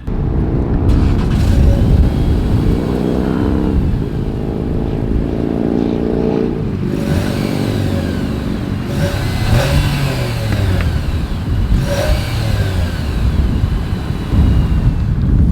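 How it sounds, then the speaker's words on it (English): A 2022 Nissan Sentra with a single exhaust, its engine revved from idle in several loud, rising and falling bursts, recorded up close near the exhaust, with no one speaking. "As always, here is that exhaust clip."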